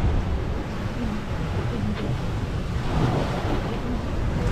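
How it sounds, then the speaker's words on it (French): Steady wind and rushing waves around a sailing yacht heeled hard on a Mediterranean crossing, a continuous loud broadband roar with gusting wind noise on the microphone and splashing surf, no talk. "Bon, le vent a forci encore un peu là."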